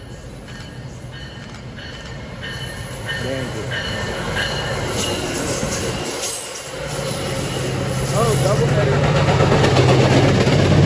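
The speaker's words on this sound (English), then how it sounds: "So that's what this train does, the train meet." Trains pass each other at a train meet, with a steady rolling rumble, squealing wheels and a rising low drone as the cars go by close, while people talk over the noise.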